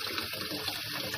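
Tap water runs steadily from a faucet into a sink as fresh nettles are rinsed, making a close, continuous splashing hiss with no pauses.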